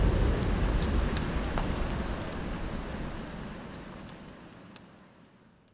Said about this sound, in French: la pluie s'abat sur nous pour la première fois du séjour